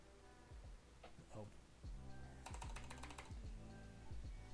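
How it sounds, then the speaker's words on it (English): Fingers tap on a broken computer keyboard in quick irregular clusters of clicks, fairly faint, with a few louder bursts of keystrokes near the middle over a steady background hum. "my keyboard's broken, so typing this is kind of hard"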